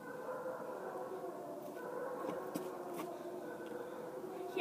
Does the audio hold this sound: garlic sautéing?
no